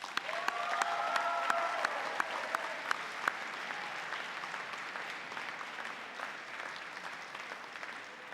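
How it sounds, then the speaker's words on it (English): Graduation audience at Richmond University applauding the families, a sustained wash of many hands clapping from a large crowd that stays steady and gradually tapers, with a brief tone of voices near the start. "So let's applaud the families."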